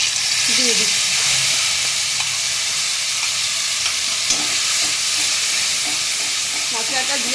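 A Bengali spice paste hits hot oil for a vegetarian jackfruit dalna, producing a loud continuous sizzle and hiss with occasional spoon clinks, and faint speech-like sounds briefly underneath.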